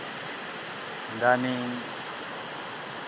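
Flowing water of the Dilusong River at a bathing spot, a steady broad rushing wash that continues throughout, with a voice speaking briefly over it partway through.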